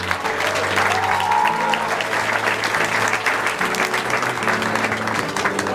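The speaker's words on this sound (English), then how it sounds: "Give them a round of applause," Steady, dense applause from a wedding crowd, continuous clapping throughout with a faint tonal hum underneath.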